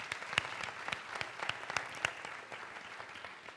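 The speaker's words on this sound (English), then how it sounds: "Can you all please help me give a round of applause?" A conference audience at a food-system leadership session gives a brief, fairly faint round of applause, with scattered individual claps standing out over a soft, uneven patter that fades toward the end.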